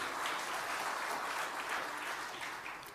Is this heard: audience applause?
yes